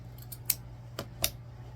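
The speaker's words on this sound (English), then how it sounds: "I'm just threading my scissors right through and cutting them." Scissors snipping through craft material for a popsicle-themed wreath, three or four quick, crisp cuts, close and fairly quiet, with a low steady hum underneath.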